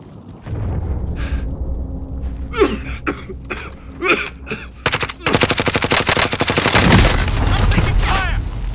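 Gunfire in a shooter video game: scattered single shots, then a sustained rapid burst of automatic fire, loud and close, with brief speech.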